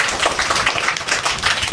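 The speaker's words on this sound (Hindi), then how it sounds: "ताली बजाओ आप लोग।" An audience claps for a little girl who has just recited a poem, a dense, close burst of continuous hand clapping lasting under two seconds.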